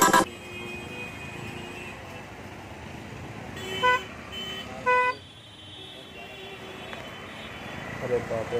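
Several vehicle horns honk in short, loud blasts over a steady roar of heavy Sunday traffic near Qutub Minar, with a distant droning hum underneath and a few more toots near the end.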